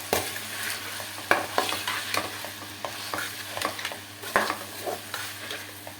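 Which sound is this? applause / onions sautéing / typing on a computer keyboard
onions sautéing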